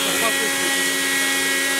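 A Miyako blender runs at high speed, producing a loud, dense whine that holds steady throughout.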